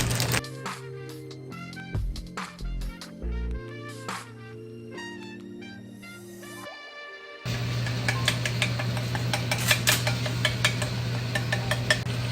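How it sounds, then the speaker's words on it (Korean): Squid stir-fried in a pan over high heat: clinking and scraping of utensils against the pan at first, then a steady loud sizzle broken by sharp taps and stirring. "그다음에 센 불로 서르르 볶을 거야."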